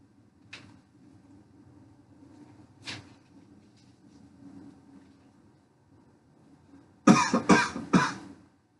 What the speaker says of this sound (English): I noticed that the patient is coughing